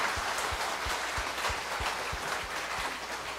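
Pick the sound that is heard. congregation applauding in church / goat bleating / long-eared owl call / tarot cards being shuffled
congregation applauding in church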